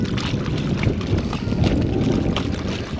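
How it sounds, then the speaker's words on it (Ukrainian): Steady, buffeting wind rushes across the microphone in low rumbling gusts at a riverside fishing spot in November, loud and continuous throughout with no voices. "Вітер такий вже поривчастий такий він."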